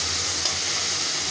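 Onions frying in oil in a kadai, a steady close sizzle with light stirring and no voices over the brief stretch.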